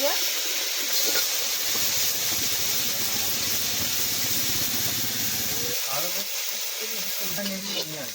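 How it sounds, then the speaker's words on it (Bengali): Prawns frying in hot oil in a wok, a dense continuous sizzle and hiss up close, with a voice briefly speaking near the end over the frying. "চিংড়ি মাছগুলো দিয়ে দিচ্ছি কড়ায়"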